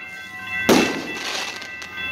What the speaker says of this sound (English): And there's fireworks going off all over the place.